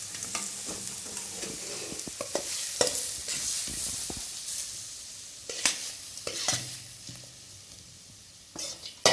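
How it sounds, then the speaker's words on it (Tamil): Sautéed vegetables for kuzhi paniyaram being stirred and scraped out of a pan into rice flour batter, soft sizzling under repeated spoon scrapes and sharp clinks against the vessel, close throughout. "இப்போ இதை எடுத்து நம்ம அரிசி மாவில் மிக்ஸ் பண்ணணும்"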